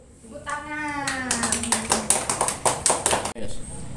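Children in a classroom clap together for about two seconds in a quick burst of sharp claps. Someone speaks briefly just before the clapping, and the room is quiet afterward.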